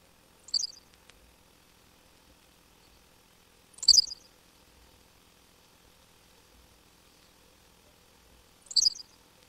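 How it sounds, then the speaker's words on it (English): Henslow's sparrow song in a hayfield, slowed to quarter speed: three brief, high, insect-like chirps spaced several seconds apart over a faint, quiet background. "cricket-like song of the Henslow sparrow often passes unnoticed in the hayfields"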